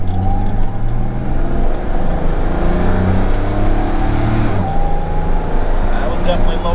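A Jaguar E-Type pulls along in low gear, its engine humming loudly and steadily with rising pitch, then briefly dropping and climbing again as the car drives over a bumpy road.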